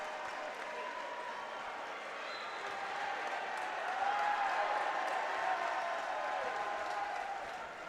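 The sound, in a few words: Metamora basketball crowd applauding a player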